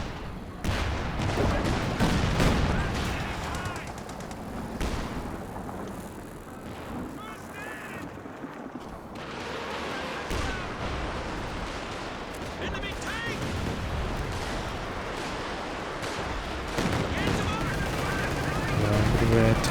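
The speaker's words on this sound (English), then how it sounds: "Tank battle going on over here" A tank battle rages in Company of Heroes 2 during a 2v2 match: dense, loud bursts of cannon and machine-gun fire with explosions roll almost without pause for about twenty seconds, with a voice partly audible beneath the barrage.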